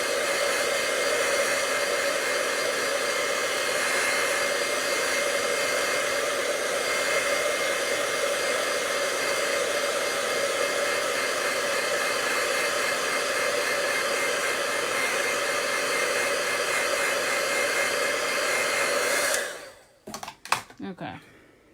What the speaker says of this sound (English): I'm going to go ahead and bring my heat tool just so that I can dry it out sooner